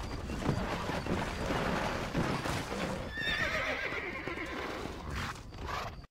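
A horse in Red Dead Redemption lets out a loud whinny, with hooves clip-clopping and rustling movement around it, close and clear.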